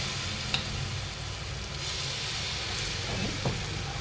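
Rava batter sizzles steadily on a hot oiled tawa, a close, continuous crackle with a couple of small clinks from a spoon spreading it, and no talk.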